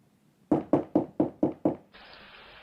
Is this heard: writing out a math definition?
no